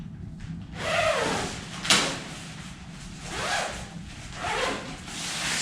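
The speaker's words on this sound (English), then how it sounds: "Let's unzip this and show you." A tent vestibule zipper is pulled open in a few close, rasping strokes, with a sharp zip near the middle and softer drags after it, no talking.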